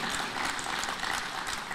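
Steady applause from an audience at a PDCI-RHDP political forum in Côte d'Ivoire, greeting a government minister. A dense, even wash of clapping holds for the whole short stretch with no talk.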